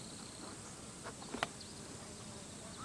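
A colony of Japanese honey bees clustered in a ball hanging under a hive roof gives off a faint, steady insect hum, with a few soft clicks and one brief sharper knock midway.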